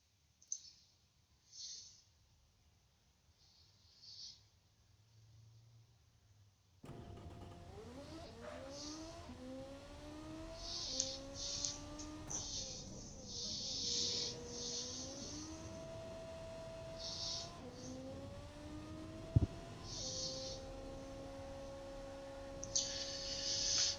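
A simulated V8 engine in the Automation car-building game starts after a few quiet clicks, then revs up repeatedly in rising sweeps through gear changes. The engine note is fairly subdued and steady, with occasional clicks over it.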